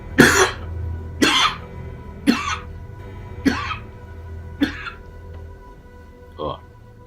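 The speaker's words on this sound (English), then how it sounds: "excuse the little coughing fit there. Oh, got a tickle in my throat." A run of six sharp coughs, evenly spaced and close to the microphone, the last one softer, over a low steady hum.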